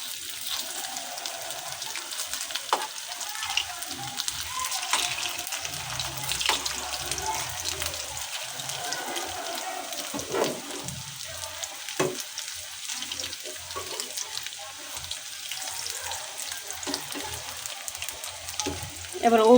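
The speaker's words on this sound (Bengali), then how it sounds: "এবার ওই পাশটাও বেজে নিব।" Lentil and shrimp fritters frying in a pan: a steady soft sizzle runs throughout, with occasional clinks and stirring noises, and no talk.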